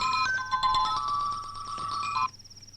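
A phone rings with a bright electronic tone, warbling repeated trills for about two seconds before cutting off, close and fairly loud.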